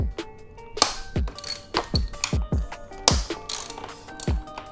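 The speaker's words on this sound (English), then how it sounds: "bring the socket to the outside and break those loose" A socket ratchet loosening fender bolts on a 2017-2020 Honda CBR1000RR, heard as a series of loud, close metallic ratcheting bursts with sharp clicks in an uneven rhythm, with no talk.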